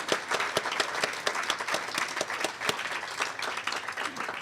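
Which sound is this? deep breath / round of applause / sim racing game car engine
round of applause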